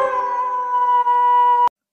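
A single wolf howl holds one long, steady tone for under two seconds and then cuts off abruptly. It sounds clean, like a sound effect, with no other noise.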